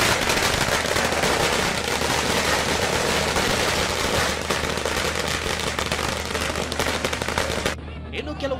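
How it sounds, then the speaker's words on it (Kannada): Firecrackers burst in rapid, dense volleys outside a BJP office during a Bihar election victory celebration, loud and continuous crackling for several seconds, with crowd noise mixed in before it cuts off abruptly. "ಬಿಜೆಪಿ ಕಚೇರಿ ಮುಂದೆಯೇ ಪಟಾಕಿ ಸಿಡಿಸಿ ಸಂಭ್ರಮಿಸಿದ್ರು."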